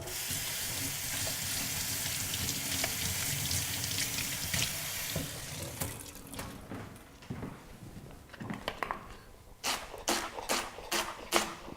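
Tap water runs steadily into a sink as a leek is rinsed, a continuous hiss that fades after several seconds, followed by a few sharp clatters and knocks nearby.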